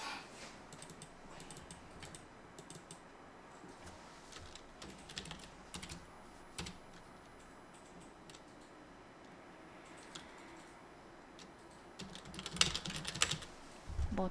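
Fingers type on a computer keyboard in scattered bursts of soft, close clicks separated by pauses, with a livelier cluster of keystrokes near the end and no talking.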